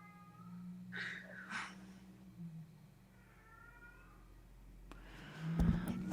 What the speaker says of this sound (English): And Sherlock is deciding to meow right now, of course.